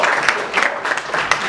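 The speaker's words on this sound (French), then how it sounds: "applaudissez" Applause from a crowd at a school supplies handover ceremony, a steady patter of clapping hands with slight swells, fairly close.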